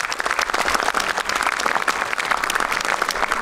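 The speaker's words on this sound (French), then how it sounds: "on peut l'applaudir" An audience at a festival talk applauds loudly and steadily, a dense wash of many hands clapping throughout with no pauses.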